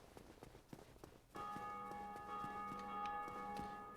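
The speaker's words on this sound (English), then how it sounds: "Those bells just keep ringing. People are playing Dark Souls right now." Bells ringing in the Dark Souls video game start suddenly partway through, sustained tonal strikes that layer and linger at a steady loud level after a quieter start with soft background noise.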